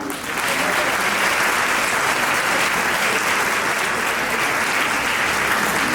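Students at a women's college and nursing college in India applaud doctors at a health camp seminar, dense, steady clapping from a large group held evenly loud for several seconds.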